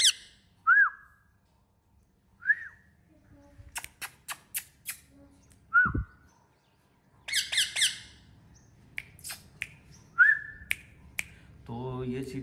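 Short rising whistles are repeated about four times, several seconds apart, to call a pet parrot back, with sharp clicks and faint squawks between them in a quiet outdoor setting.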